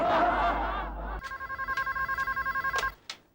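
A telephone ringing indoors in a Hindi comedy show, a steady rapid electronic bell trill that starts after a brief stretch of background voices and music and then stops abruptly.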